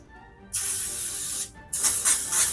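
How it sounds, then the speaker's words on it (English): Two bursts of cooking spray hissing from an aerosol can onto food before roasting, a steady one-second spray followed by a longer, slightly pulsing one, close and loud. "we're going to spray them with some cooking spray"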